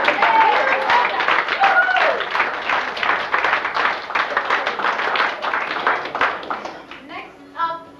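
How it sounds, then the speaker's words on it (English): Audience applause at a fashion show as a model in a white shirt and skirt finishes her walk, a dense crowd of clapping hands lasting several seconds with some voices mixed in, tapering off near the end. "Give her applause."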